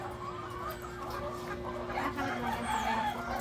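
Chickens and roosters on a farm in the Philippines cluck steadily at moderate distance, with occasional crowing calls over a constant low hum, while faint speech is heard in the background.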